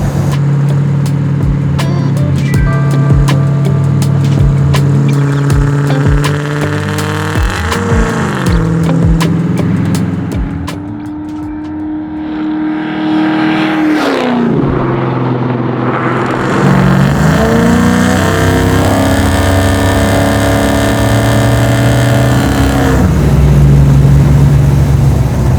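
A 750-horsepower LS9-powered Chevy Chevelle accelerates hard from inside the car, its loud engine rising in pitch through repeated pulls, with a steady drone between the surges.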